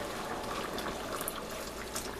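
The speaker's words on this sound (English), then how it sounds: "So I am going to add just a little bit more water to them." Water poured into a pot of stewing potatoes with corned beef, a steady close gushing and bubbling wash that runs evenly throughout with no voices.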